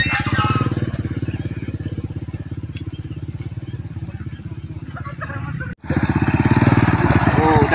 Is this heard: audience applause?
no